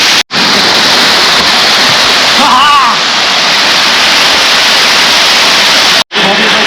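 Neer waterfall near Rishikesh, India, pours as a steady, loud broadband roar filling the whole stretch, with a voice briefly heard over the rushing water midway.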